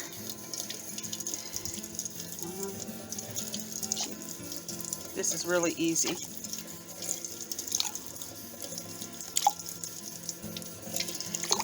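Water runs steadily from a kitchen tap into a container for making flax eggs with flaxseed, with drips and splashes over the flow while a person talks.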